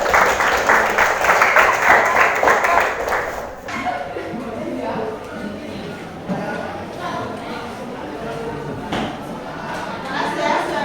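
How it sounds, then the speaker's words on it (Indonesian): Classroom applause for a student group, a dense burst of clapping lasting about three and a half seconds before fading into quieter room noise and scattered taps. "kita beri tepuk tangan dulu."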